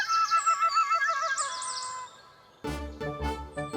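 Bright, rapid cartoon bird chirps and tweets repeat for about two seconds in a busy trill. After a short pause, a louder, thumping burst of other sound takes over.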